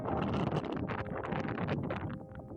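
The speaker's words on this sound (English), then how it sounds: "It's an extremely windy day out here on the prairies." Strong, steady wind roars and buffets the microphone on an open prairie by a ghost town, a continuous gusty rush with no voices.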